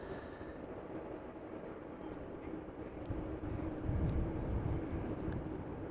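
An airliner taxiing back to the gate at Amsterdam Schiphol Airport: a steady, distant low engine rumble that swells slightly midway, with no speech.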